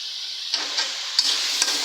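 Vegetables, pointed gourd, dropped into a pan of cooked-down spices, a steady soft sizzle with a few sharp stirring clinks and scrapes.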